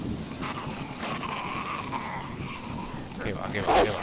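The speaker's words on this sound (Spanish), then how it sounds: "Hay otro perro." A dog in the survival video game DayZ, set on Deer Isle, gives short barks and whimpers at moderate distance amid steady game ambience and background noise.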